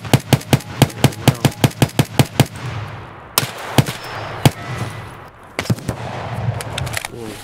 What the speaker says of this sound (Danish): Det var en shotgun.